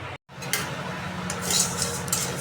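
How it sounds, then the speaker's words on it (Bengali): Polao rice being dry-fried in a pan for coconut naru, with metal spoon scraping and stirring against the pan, a steady low hum beneath and clinks scattered through. "এই যে চালগুলো আমি ভেজে নিতেছি আগে"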